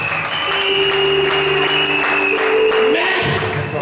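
A church congregation claps in praise of Jesus, loud steady applause over sustained keyboard tones and a few voices in the room.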